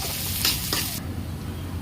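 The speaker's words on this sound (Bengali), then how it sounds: "তেল গরম করে কিছু পেঁয়াজ দিয়ে ভালো করে বেগুনি করে ভেজে নেব" Onions fry in hot oil for a fish curry, giving a short, steady hiss of sizzling broken by a couple of quick stir scrapes near the start.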